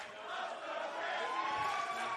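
A stadium crowd at Ballymore Stadium roars steadily during a men's gridiron grand final between the Northern All-Stars and Queensland, a continuous distant wash of cheering and shouting.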